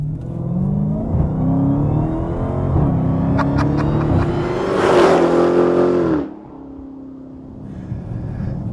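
Loud engine of a Dodge Challenger Hellcat revving hard and pulling up through third gear, roaring to a peak before cutting back to a low rumble.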